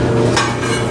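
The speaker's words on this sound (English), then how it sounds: "So now the lid goes on." A rock tumbler barrel lid is pressed on for tumbling crazy lace agate, one short muffled knock standing out over a steady close rumble.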